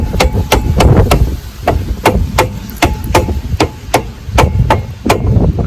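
Repeated hammer blows strike around the lug nuts of a Mustang's rear wheel, about fourteen sharp metallic hits in a quick, uneven rhythm, close and loud, with no talking.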